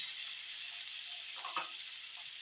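Turmeric and oil hiss in a pan while eggplant is sautéed, a steady faint sizzle with a brief soft stir midway.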